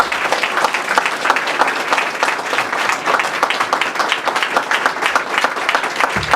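Audience at a foundation donation event for a STEM partnership school at Aurora University applauding, loud close clapping with distinct individual claps standing out in a brisk, continuous rhythm, no speech over it.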